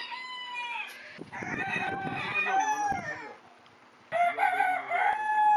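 Chickens cluck and a rooster crows on a farmstead with dogs and horses about, the crows rising in two loud bursts close by, with a brief spoken word partway through.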